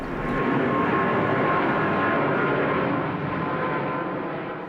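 An airplane passes low over a village near an airport, a loud, steady roaring jet drone that swells and slowly eases off, with no voices.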